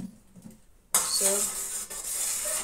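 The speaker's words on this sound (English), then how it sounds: "to give it a good stir" A homemade vaseline mixture with glycerin and lavender fragrance stirred in a bowl, a quiet start giving way to a sudden, close scraping and clinking of utensil against the bowl that runs steadily to the end.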